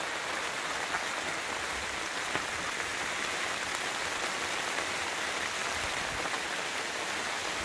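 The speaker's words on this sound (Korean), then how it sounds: "비가 떨어지는 또 위치를 봐서는 일단 두둑에서 피해서 떨어지고 있습니다." Rain falls steadily on a rain shelter over a pepper field, making an even, dense patter that continues without a break. No voices are heard.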